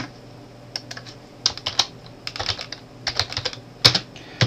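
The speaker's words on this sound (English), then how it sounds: "I'll type the folder title as Turkey" Keys clatter on a computer keyboard as a folder title is typed in photo-management software, a close, quiet run of irregular clicks in short bursts with brief pauses between them.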